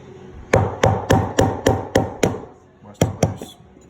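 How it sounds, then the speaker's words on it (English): Heavy hammer blows on a 2001 Chevy 2500HD LB7 fuel tank while freeing the fuel sending unit: eight sharp, close metallic strikes in a steady rhythm, a brief pause, then two or three more. "Big hammer."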